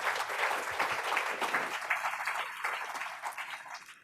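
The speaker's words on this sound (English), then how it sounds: "let's give a round of applause" Sustained crowd applause at a retirement reception for a public library director, steady and dense for about four seconds before thinning slightly at the end.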